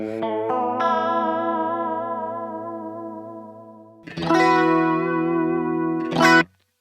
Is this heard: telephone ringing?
no